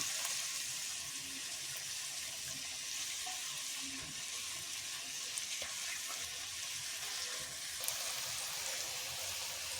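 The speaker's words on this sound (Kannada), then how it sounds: "ಇವಾಗ ಬದನೆಕಾಯಿ ಹಾಕ್ಬೇಕಾದ್ರೆ ಹುಷಾರಾಗಿ ಹಾಕಬೇಕು, ಸಿಡಿಯುತ್ತೆ." Mysore brinjal pieces sizzle in hot oil for a one-pot dum vangi bhath, a soft steady frying hiss with faint crackles and an occasional pop, quiet and without talk.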